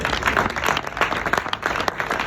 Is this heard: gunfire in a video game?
no